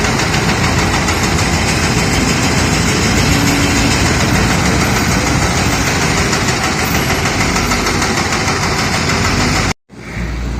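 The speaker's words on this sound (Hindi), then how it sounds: "इस वक्त भी यहाँ पर एक्सीवेटर मशीन काम कर रही है" An excavator works at a flyover construction site in Naya Nazimabad, its heavy diesel engine chugging loud and close in a steady, vibrating drone that cuts out abruptly near the end.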